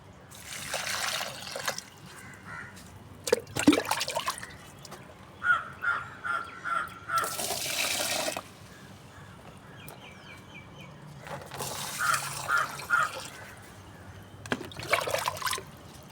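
Water mixed with kitchen scraps is poured onto rose plants in a home garden, giving trickling, splashing bursts in a few separate pours, with crows cawing in the background.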